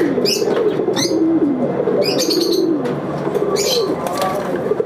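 Fancy pigeons coo steadily at a farm, their soft rolling calls repeating close by, with a few brief higher chirps and rustles breaking through at intervals.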